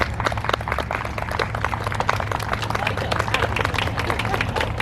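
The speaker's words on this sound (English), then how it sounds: "Let's have another round of applause." A crowd at an officers and directors installation ceremony claps in a steady, dense round of applause, with murmured voices and hubbub mixed in throughout.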